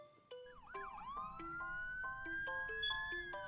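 A wailing siren sweeps up and down, mixed with chiming tones and a rising electronic whine, fairly quiet and steady throughout.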